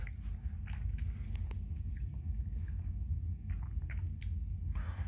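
Slow chewing of bamboo salt close to the microphone, with soft crunches and moist squishy bites in an irregular rhythm over a low rumbling background.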